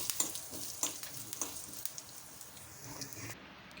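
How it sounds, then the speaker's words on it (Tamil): Spices temper in hot oil for a Chettinad chutney, giving a soft, continuous sizzle and crackle with small popping bursts and a few stirring scrapes, close by and fairly quiet. "எல்லாமே நல்லா தாளிச்சு ரெடியாகட்டும்"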